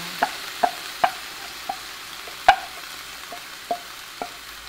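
Fish frying in a pan, with a low steady hiss under sharp, spaced taps and clinks, about eight or nine distinct knocks spread across the stretch, close and fairly quiet.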